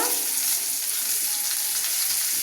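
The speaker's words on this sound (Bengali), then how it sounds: "ভেজে নেব" Mixed vegetables frying lightly in a small amount of soybean oil in a pan, giving a continuous, even sizzling hiss that stays fairly loud and unbroken throughout.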